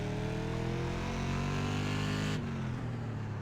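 A low-powered SK Modified race car engine in the iRacing sim at the LA Coliseum track holds a loud, steady drone that drops in pitch near the end, with no voices.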